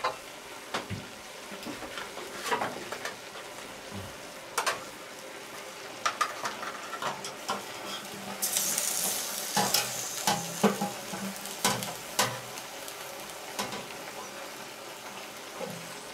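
Meat for a kettle goulash frying in a cauldron outdoors, sizzling under scraping stirs and metallic clanks of utensil on pot, with a louder hissing surge partway through.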